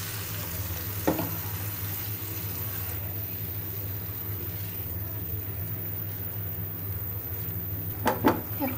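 Spice paste sizzles steadily in a pan while being sautéed, with occasional spatula scrapes breaking through the constant frying hiss.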